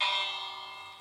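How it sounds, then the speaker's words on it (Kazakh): A single bell rings out with bright, sustained metallic overtones, loud at first and then slowly fading over about a second, with no voices. "Қоңырау?"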